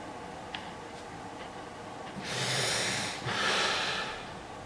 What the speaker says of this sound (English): So the act of breathing in the or pretending to breathe in the chest